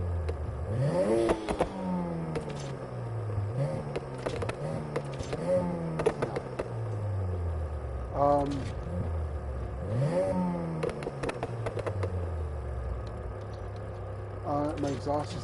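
In the Need for Speed Heat video game, a car engine with a changed exhaust revs repeatedly, rising and falling in pitch through several gear-like sweeps, with occasional pops and someone talking over it.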